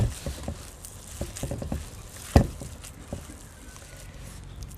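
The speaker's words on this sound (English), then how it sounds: "mix it all together, and it's best to use your hands because you'll get a much better mix" Pork burger mince with sage and fennel being mixed by hand, heard as close, wet squelching pats and squishes in an irregular rhythm, one louder slap partway through.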